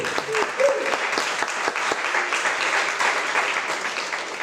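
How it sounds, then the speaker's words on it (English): Audience applause for a guest on stage at an arts event, a steady round of clapping from a modest crowd with clear individual claps, sustained and fairly close, with a few voices underneath. "Everyone, round of applause for Casey."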